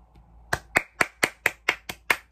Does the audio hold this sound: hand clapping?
yes